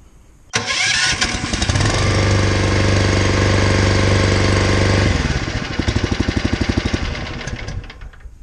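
A small Briggs & Stratton engine on a diaphragm pump setup is started without an ignition switch, catching abruptly and roaring loud and steady for several seconds, then chugging in a fast rhythmic idle before cutting off.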